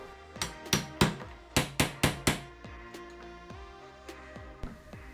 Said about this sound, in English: I'm probably going to give it a little persuasion with a hammer to get it down in there